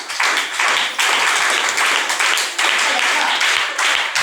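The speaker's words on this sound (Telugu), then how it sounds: "క్లాప్స్ కొడదాం ఒకసారి" A group claps hands together at a birthday celebration, loud and close, in steady repeated bursts that keep a shared rhythm, with people talking alongside.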